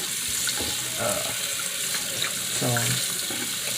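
A faucet runs steadily into a sink as sea moss is rinsed, a constant close splashing flow. A brief spoken word and a few vocal sounds sit over the water.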